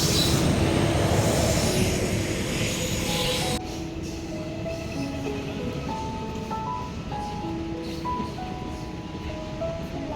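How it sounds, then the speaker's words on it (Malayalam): A passenger train on the way to Kozhikode pulls into a station with a loud, rumbling roar that drops to a quieter hum, while drawn-out tonal squeals, likely from the brakes, ring out over it. "അപ്പം നമ്മുടെ ട്രെയിൻ എത്തിയിട്ടുണ്ട്."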